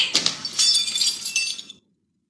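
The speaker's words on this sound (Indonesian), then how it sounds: "Gelas yang sedari tadi dipegang oleh ibu pecah dan serpihannya mengenai leher ibu" A drinking glass breaks and shatters during a stage performance, a sharp crash followed by a spray of tinkling shards that scatter and fade within about two seconds, then silence.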